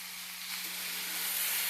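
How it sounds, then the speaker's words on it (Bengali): Vegetables fry in a pan with a soft, steady sizzle and faint hiss, continuous and close, growing slightly louder. "সবজিটা হালকা হালকা ভাজা ভাজা হয়ে গেছে।"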